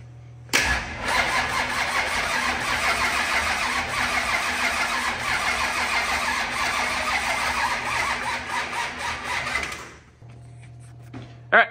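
A rebuilt 25-year-old race engine cranks and fires, then runs with a loud, steady roar and a faint squeal for about nine seconds before cutting off abruptly. No one speaks.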